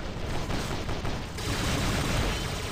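Dense gunfire and explosive weapon blasts from robot combat in War Robots 9.7, with Titan-class machines and rocket launchers; a continuous, loud barrage of overlapping shots and booms with no let-up.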